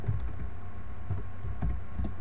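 Typing on a computer keyboard, a short run of soft, irregular key taps and clicks at close range over low background hum, no voices.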